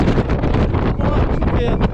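Strong wind buffets a small metal footbridge in the Serra da Estrela near Covilhã, roaring steadily and loudly against the microphone with no break.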